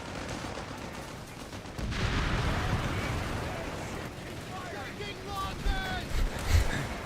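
Mortar and artillery fire in a Company of Heroes 3 tournament match, scattered muffled thumps and crackling battle noise under ongoing casting commentary.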